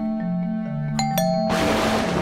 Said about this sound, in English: that doorbell woke me up from my evening nap